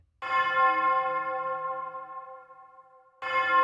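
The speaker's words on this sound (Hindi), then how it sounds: "तभी आसमान में सुनहरी घंटियां बजने लगीं" Golden bells ring out in a cartoon sky, a sustained, resonant chime that fades slowly before a second strike rings in at the end, clear and alone.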